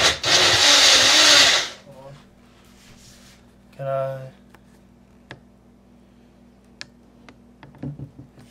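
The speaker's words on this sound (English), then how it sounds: "This is a Walmart blender" A cheap Walmart kitchen blender roars loudly for about a second and a half, then cuts off. Quieter handling clatter, a short buzzing burst and scattered taps follow.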